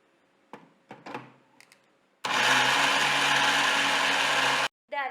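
Rice flour and cooked rice for Kerala murukku go into a mixer grinder. After a few clicks and knocks, the motor roars loudly and steadily for about two and a half seconds, stops, then briefly restarts.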